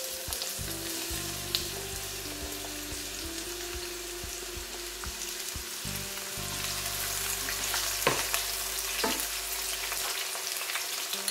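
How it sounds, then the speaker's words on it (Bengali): Chopped onion frying in oil gives a steady, close sizzle that grows a little louder partway through. A few sharp stirring clicks and scrapes sit on top, and a low background hum runs under it. "পেঁয়াজ কুচিটা দিয়ে দিচ্ছি।"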